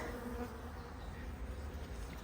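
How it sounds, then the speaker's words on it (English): Honeybees buzz in a dense, continuous drone throughout an open hive during an inspection, loud and close with no talking. "A bit tetchy, but really good bees, really good quality."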